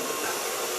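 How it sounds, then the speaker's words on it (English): A T.K.S hair dryer blows in a steady, loud, broadband rush of air with no pauses, heard alone without talk. "The hairdryer I use is also of T.K.S"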